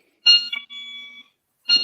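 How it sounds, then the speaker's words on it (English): A house alarm going off with loud, high electronic beeps in short bursts separated by silences, the tone steady during each burst, no talk in between. "Yeah, that's the alarm."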